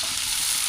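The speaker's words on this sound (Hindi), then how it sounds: "चलो, तेल गरम हो चुका है, अब इसमें डालते हैं।" Spices hit hot oil for a tadka, giving a brief, bright burst of crackling sizzle, close and loud, with no voices.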